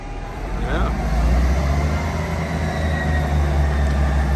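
A train rumbles steadily past on a railway line near Castleford with a level crossing, a loud, continuous low roar with faint tonal whines, close by, heard under people talking.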